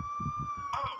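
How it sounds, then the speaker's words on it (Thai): A police car siren holds a steady, loud tone for about a second, with a rhythmic low thumping beneath it and a brief burst of noise near the end. "นั่นรถตำรวจ"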